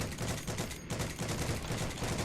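Sustained gunfire from a Heroes & Generals World War II shooter match, with rapid automatic bursts running continuously and loudly, with no talking over it.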